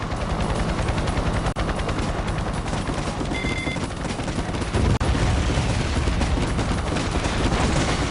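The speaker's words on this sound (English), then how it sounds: "We actually need to take down this attack helicopter." Attack helicopter boss fight in The World is Not Enough game, with continuous loud machine-gun fire over a whirring rotor and a sharp blast near the middle.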